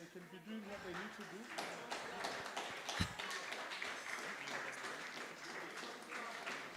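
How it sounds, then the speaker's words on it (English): Audience clapping at an arts event, irregular claps and taps over a busy room with voices talking and some singing-like sounds beneath, one sharp louder hit midway. "Keep on clapping"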